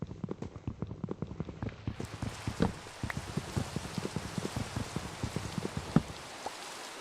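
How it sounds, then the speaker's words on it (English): Real rain falls outside during a Minecraft Skyblock gaming session, heard as steady patter with scattered sharper drops, faint and continuous throughout, with no voices. "it's actually raining IRL"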